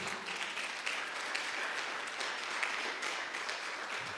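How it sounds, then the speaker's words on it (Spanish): A church congregation claps in sustained, moderately loud applause, a thick continuous wash of many hands with slight swells, heard without any clear speech over it. "¿Por qué no le das un aplauso al Señor?"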